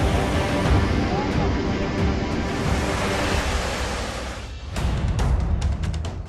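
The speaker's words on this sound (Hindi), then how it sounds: "पानी का ये शोर सुनिए।" Floodwater released from the Hathnikund barrage on the Yamuna river roars as a loud, continuous rushing wash that dips briefly near the middle and then surges back, with no talking.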